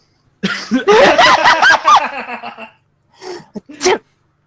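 A single loud, close sneeze with a drawn-out vocal tail, followed by a couple of quieter breathy sniffs.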